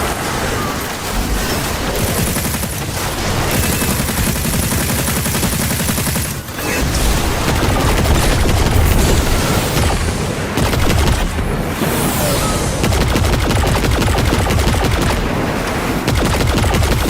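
Light machine gun fire in Destiny 2 Lightfall, a dense continuous rattle of rapid shots with booming impacts, loud and sustained through the whole stretch, with only a brief dip.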